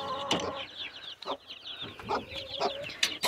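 Hens on a Polish backyard farm cluck and squawk in a busy, overlapping chorus, fairly faint and close, with sharp higher calls breaking through over soft ambient noise and no talking.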